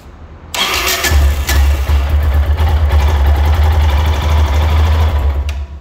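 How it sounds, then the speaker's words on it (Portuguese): Starter motor on a Yamaha XT660 motorcycle whirring and cranking loudly and close, a steady rough grinding hum that runs for several seconds after a brief click-in, with no one talking. "Vê se vocês conseguem ouvir o barulho desse arranque, ó."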